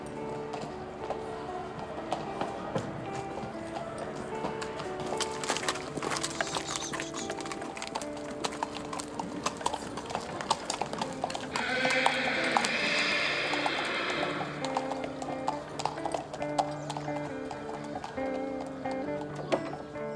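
A horse-drawn cart with a historic beer wagon rolling in a brass band festival parade in rural Bavaria, steady clip-clopping hooves mixed with crowd noise and band sounds throughout.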